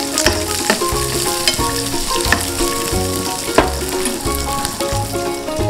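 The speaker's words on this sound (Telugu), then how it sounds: "పోపు దినుసులు, కరివేపాకు వేసి జస్ట్ ఒక్కసారి ఇలా అని" Mustard seeds, lentils and curry leaves tempering in hot oil in a pan for mango pulihora, giving a steady loud sizzle and crackle with repeated stirring knocks, no talking.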